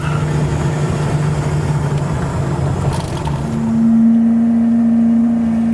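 A truck engine labouring as it tries to pull away in low gear, a loud, close, uneven drone that dips and then rises into a steadier higher pitch as the truck hesitates and slowly begins to move, with no speech.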